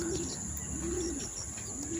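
Racing pigeons arriving from a training flight in the Philippines coo softly in low, rolling calls over steady background noise, with a few faint chirps; no talking.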